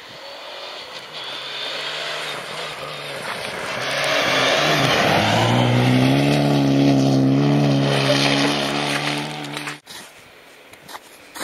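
Mitsubishi Lancer Evo rally car engine close by and loud, revving with a rising, falling pitch as it shifts gears, then cutting off abruptly near the end.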